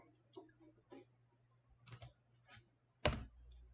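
Computer keyboard keys clicking and tapping during office spreadsheet work, a few scattered soft taps followed by one sharp, louder keystroke near the end, all close and quiet with no talking.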